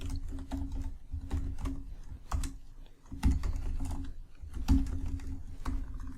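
Code is typed on a computer keyboard in an irregular run of soft, close keystrokes, with a few heavier clacks and brief pauses between bursts.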